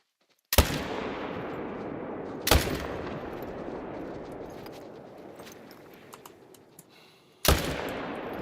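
Three loud, close rifle shots boom in theHunter: Call of the Wild, each with a long rolling echo decaying outdoors, spaced a few seconds apart.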